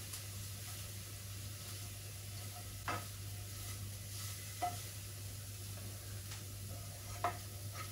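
Ground meat sizzles steadily in a pan, lightly fried as filling for stuffed peppers, while a spoon stirs and scrapes it, with a few sharp clicks against the pan and a low hum beneath.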